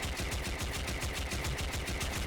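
A weapon in Warframe fires continuously with a slow, steady rate, each shot a sharp regular burst repeating about every fifth of a second, loud and alone.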